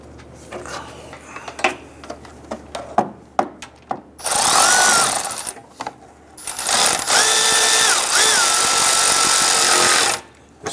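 Power tool driving bolts that hold the AC condenser to the radiator of a 2011-2019 Ford Explorer: scattered ratchet clicks and handling knocks, then two long, loud, steady whirring runs close by.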